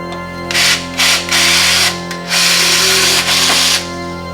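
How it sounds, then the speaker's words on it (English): A power drill bores out pop rivets in a car floor in short bursts: several loud, close whirring runs of about a second each, separated by brief pauses, over a constant background hum. "Let me get these drilled out."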